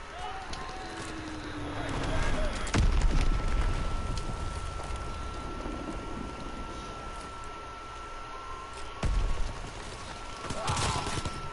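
Bomb blasts and gunfire from Call of Duty: WWII, with heavy booms near 3 and 9 seconds over a constant din of shooting and battle noise, and players talking throughout.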